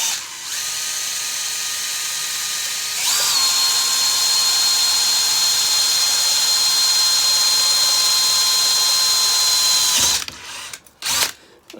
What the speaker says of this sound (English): So I'm just going to drill a small hole through there that I can put a screw in from above later.